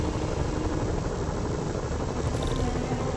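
Helicopters in a video game produce a loud, continuous thrumming rotor drone that stays steady and close throughout, with no talk over it.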